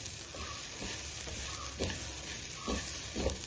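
Rice flour roasting dry in a pan for avilos podi, stirred with a few soft scraping strokes over a faint steady hiss, close and quiet with no voices.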